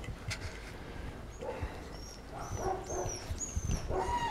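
Dogs play together nearby, with soft growls, whimpers and yips scattered over a muffled, scuffling background.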